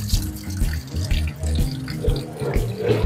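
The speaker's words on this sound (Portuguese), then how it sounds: "colocaram uma torneira na bica" Water pours steadily from a tap fitted onto the spout of a historic public fountain, the Fonte do Itororó in Santos, a close, continuous splashing stream with gurgling pulses and no talk.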